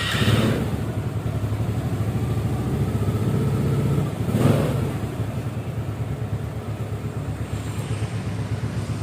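A Honda Supra motorcycle engine, still cold, turns over and settles into a steady, rough idle, with a couple of brief surges; close and continuous, no talking.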